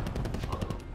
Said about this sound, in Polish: Kto tam kurde strzela?